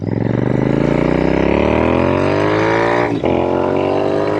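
A custom Royal Enfield INT/GT hybrid motorcycle engine revving hard, pitch climbing steadily through a gear, a quick shift dip, then pulling up again, loud and close.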